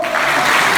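Church congregation applauding during a sermon, a dense burst of clapping from many hands, loud and steady throughout.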